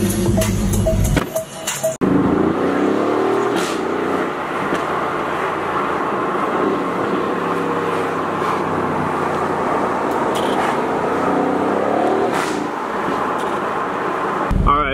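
An Aston Martin sports car drives out to a supercar meet. After a short clatter at the start, steady engine drone and road noise fill the cabin, with the engine pitch rising and falling through gear changes.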